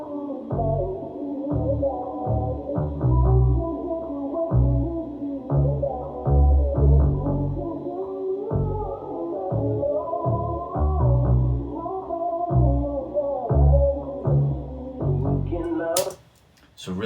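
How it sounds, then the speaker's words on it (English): Sampled synth bass in a hip-hop production, deep pulsing bass notes under a looping melodic layer in a steady rhythm, playing loud and alone before cutting out near the end. "that synth bass he had sent as well, and it sounds like this"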